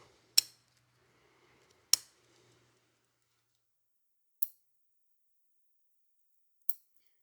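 Shears snip branches on a large collected olive bonsai: four sharp, isolated clicks, two close together early and two more spaced out later, with near silence between.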